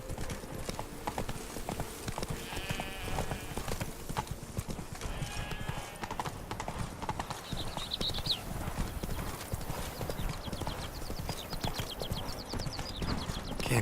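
Geralt's horse Roach from The Witcher 3: Blood and Wine gallops with steady, close clip-clop hoofbeats throughout, a brief whinny along the way, layered over game ambience and music.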